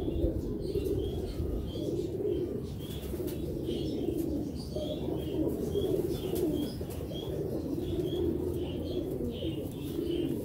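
Pigeons cooing in a loft, a steady series of soft low coos repeating throughout, with faint chirps and occasional wing flutters in the background.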